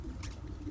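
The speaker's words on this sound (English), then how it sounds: "Yeah, clearly birds." Pigeons coo softly in a New York park within the Spider-Man: Miles Morales video game, a low murmuring burble over steady ambient city noise.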